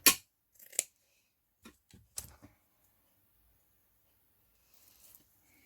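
Scissors cut through a sock being shaped into a gnome's hat, giving a few short, crisp snips with pauses between them, close by and alone.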